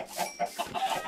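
Minecraft chickens clucking in a game farm area, a string of short, close clucks repeating in quick irregular bursts with no talk over them.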